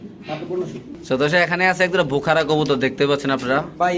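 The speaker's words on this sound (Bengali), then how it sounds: "বিশাল বড় সাইজের কবুতর দেখেন ডিম নিয়ে বসে রয়েছে" Large pigeons coo in low, rolling bursts close to the microphone, overlapping with people talking nearby at a pigeon sale.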